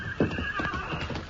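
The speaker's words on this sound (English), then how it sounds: "There are 4 horses tied over there by the bank." Horses in an old radio drama sound effect: a whinny rises over rhythmic hoof clip-clops, all heard together in one short, mid-level burst.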